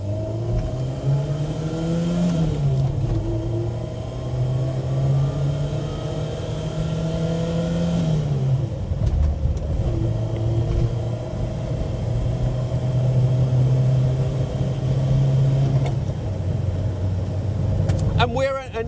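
A Renault 4 GTL drives along the road with a steady, droning engine that rises and falls through the gears, while a person talks over the continuous cabin rumble.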